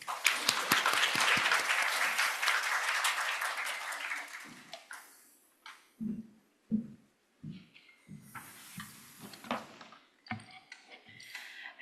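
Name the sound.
applause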